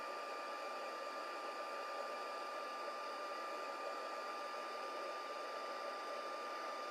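Heat tool blowing steadily to melt white embossing powder for stamping, a constant close whirring hiss with a thin high whine that holds unchanged throughout, with no voices.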